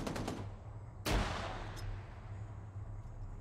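A frag grenade goes off in ARMA 3 as a single sharp, loud blast about a second in that rolls off into a long fading rumble, following a brief burst of earlier noise and no talk.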